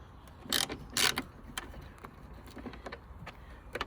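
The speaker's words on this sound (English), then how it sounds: "10mm ratchet to remove them out" A 10mm ratchet clicking as bolts come out of a Nissan Qashqai J10 lamp cluster, with two bursts of rapid ratcheting followed by lighter scattered clicks, close and fairly quiet.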